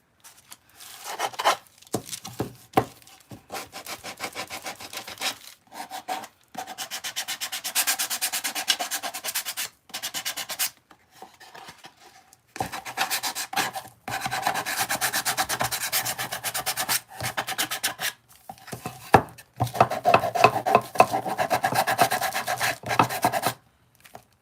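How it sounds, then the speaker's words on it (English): A small electric sander works over an aged, painted Dollar Tree wooden craft in bursts of gritty, rasping rubbing, stopping and starting repeatedly with short pauses between passes. "You need a sander? I got this one at Lowe's."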